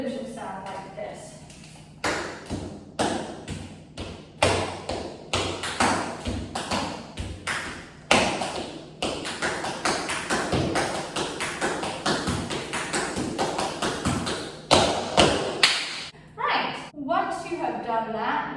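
Tap shoes striking a floor in a quick, steady tap-spring rhythm of crisp metallic clicks, close and loud, running continuously with a short pause near the end.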